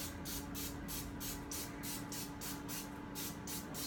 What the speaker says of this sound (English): We're just going to spritz them with a little bit of this stuff.